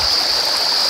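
Creek water spilling over a small built-up dam, a steady close rush and hiss of flowing water with no break, no voices over it.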